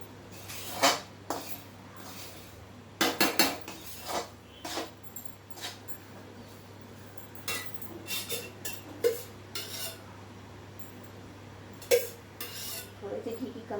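Atta roasting in ghee in a pan for gond laddu is stirred with a spoon, producing irregular metallic scrapes and clinks against the pan over a quiet background hum, with no speech.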